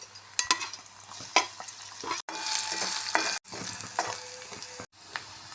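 Crushed ginger and garlic sizzle and crackle steadily in oil in a pan while a utensil stirs and scrapes, the frying loud and close with a few abrupt cuts.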